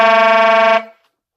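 A saxophone multiphonic played with a low B fingering and the first finger raised: a single buzzy, steady chord of stacked tones held loud for under a second, then cut off sharply, with no talk.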